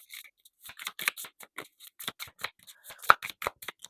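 Rapid crisp flicks and riffles of tarot cards being shuffled, a dense run of short papery snaps close by with no talking.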